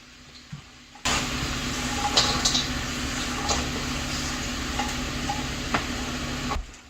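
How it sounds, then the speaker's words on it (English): Onions cut into strips and carrots land in hot oil in a pan, a sudden burst of sizzling after a second of quiet that holds steady for several seconds with a few faint clinks, then cuts off. "I'm just going to put all those onions and carrots into the pan here."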